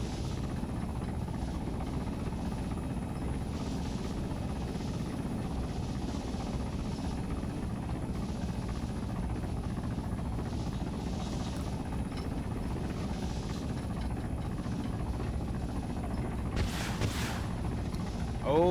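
Ka-52 attack helicopter flying high over a battlefield in a multiplayer war video game, a steady, droning rotor rumble that holds constant throughout, with a brief higher whoosh near the end.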